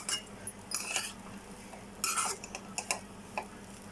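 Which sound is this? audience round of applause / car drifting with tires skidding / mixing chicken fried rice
mixing chicken fried rice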